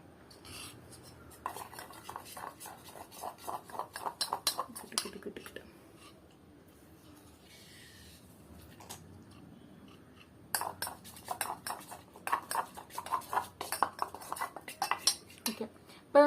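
A spoon stirs rose water into a natural face pack in a small bowl, making quick clinking and scraping strokes in two bursts, with a quiet pause between them and no talking.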